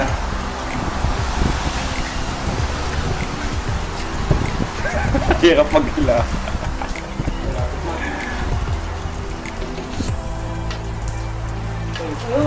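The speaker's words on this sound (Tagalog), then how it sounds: "At kalakas ng ulan." Steady heavy rain hisses and drums on surfaces throughout, on a fishing trip under a bridge, with people talking over it and some clattering movement midway.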